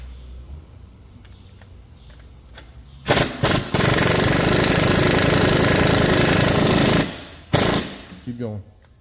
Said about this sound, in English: you're gonna have to use the impact on it now